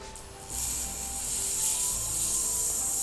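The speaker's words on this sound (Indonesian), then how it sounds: "Mungkin Agan dengar suaranya kayak serem gitu ya, cuma jujur ini nggak serem sama sekali karena dia cuma menghaluskan sih kan" A nail tool files and smooths a Panana lizard's claws, giving a steady close scraping rasp that grows slightly louder after the first half second and continues evenly without voices.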